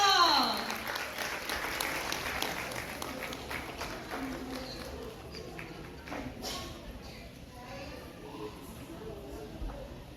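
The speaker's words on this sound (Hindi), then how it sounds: "जोरदार तालियां." Applause rises loudly from the audience at a style awards evening in Kalyan, India, then thins into scattered claps under a voice speaking over it and background crowd noise.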